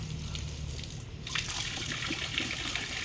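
Water gushing strongly from a pipe beside a highway, a continuous rushing splash that grows louder and brighter partway through, with low traffic rumble underneath.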